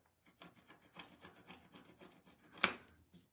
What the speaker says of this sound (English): I'm scraping the extra glue off.